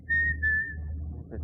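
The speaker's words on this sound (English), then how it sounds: "Will you cut out that whistling" A short, thin whistled tune of a couple of sustained notes, faint over a low background rumble, ending with a soft thump.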